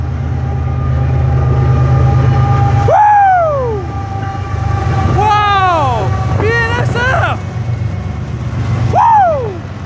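A train pulled by two engines passes close by, a low rumbling roll under repeated loud, swooping horn blasts, with a faint voice heard in the background.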